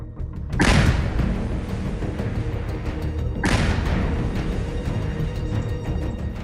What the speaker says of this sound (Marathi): स्फोटकांचा वापर करून त्याचं घर उद्ध्वस्त करण्यात आलंय